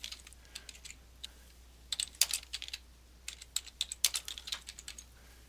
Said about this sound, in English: let's type in our full name